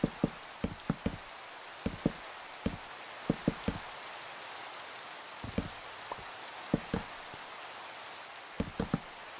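Rain falling in Minecraft, a soft steady hiss broken by crisp drip-like ticks that land irregularly, sometimes in quick pairs, with no speech.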